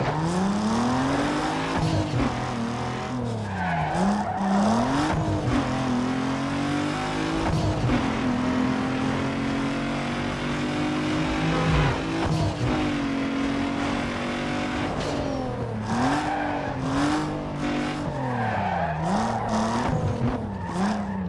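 Cars drag racing in the video game Need for Speed Underground 2: loud engines rev hard and rise through gear after gear with abrupt shift drops, mixed with tire squeal and skidding, and no talk throughout.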